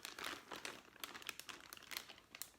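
A plastic bag being folded over to seal around jerky pieces gives off soft, repeated crinkling and rustling, close up and steady across the clip.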